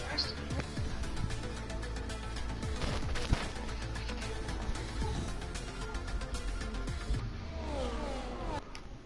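A 2010 Formula One car's engine in the F1 2017 racing game, a constant high-revving drone with rising gear-change sweeps near the end, playing under a person talking.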